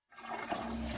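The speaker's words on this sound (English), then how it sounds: "Every flush spews bacteria onto surfaces" A toilet flushes nearby with a sudden whoosh of rushing, gurgling water that starts abruptly and keeps roaring steadily to the end.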